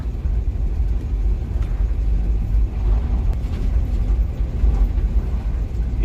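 Car with a rebuilt Dodge 318 Poly engine driving, a steady low engine rumble and road noise heard from inside, continuous and fairly loud with no talk.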